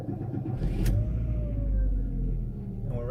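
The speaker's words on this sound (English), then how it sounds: "And we're ready to roll. And we're off. Oh! The van is going home." A van with a full tank of gas pulls away and drives off, its engine rumbling steadily and rising slightly as it gets under way, close by, with a brief whir near the start.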